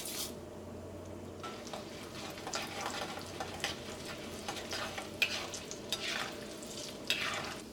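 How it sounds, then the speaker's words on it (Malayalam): Chana dal, black pepper and urad dal frying in hot ghee for rava pongal, a steady soft sizzle with occasional crackles and pops, with a stirring utensil scraping through the pan and no talking. "ഈ ചൂടായ നെയ്യിലേക്ക് കടലപ്പരിപ്പ് ചേർക്കുക, കുരുമുളക് ചേർക്കുക,"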